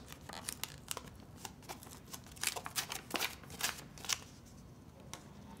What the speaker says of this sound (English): Once your document has cooled off, we peel off this wax paper like this.